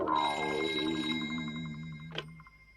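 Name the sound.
telephone ringing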